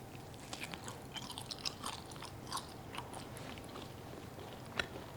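Sweet, slightly oily dried pork jerky being chewed up close, soft repeated bites and moist chewing clicks in a quiet room, with no talking.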